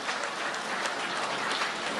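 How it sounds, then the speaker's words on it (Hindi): Audience applause at an Urdu poetry mushaira in Qatar, a dense, steady wash of clapping from a large crowd that holds at an even level throughout. "आप हजरात ढेर सारी तालियां बजाएं ताकि जनाब अजहर इनायती साहब को हम दोबारा सुनें"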